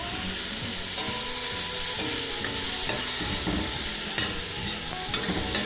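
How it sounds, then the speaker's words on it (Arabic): Tomatoes and hot peppers fry in a pan for kabsa, giving a loud, steady sizzle broken by repeated scraping stirs of a utensil against the pan, with no voices. "هننزل الطماطم وننزل الفلفل الحار ونقلب لحد ما تتسبك معانا."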